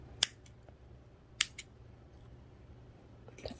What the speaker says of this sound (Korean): 가위로 잘라줍니다.